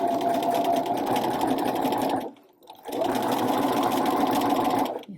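A sewing machine runs a straight stitch with a narrow hemmer foot, its rapid steady whir loud and close, broken by a brief pause near the middle before stitching resumes.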